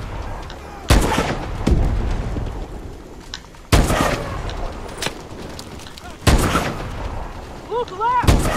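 Heavy booming gunfire and blasts from Call of Duty: Advanced Warfare hit in several loud close impacts with ringing tails, over a rumbling battle background with a voice talking at times.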